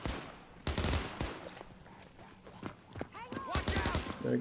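Gunfire in a zombie shooter video game, scattered sharp shots and short bursts at irregular intervals, mixed with other game effects and brief voices.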